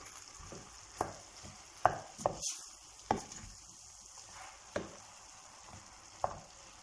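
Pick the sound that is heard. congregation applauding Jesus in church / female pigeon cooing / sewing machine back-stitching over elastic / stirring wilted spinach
stirring wilted spinach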